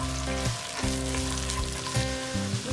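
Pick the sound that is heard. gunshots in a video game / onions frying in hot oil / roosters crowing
onions frying in hot oil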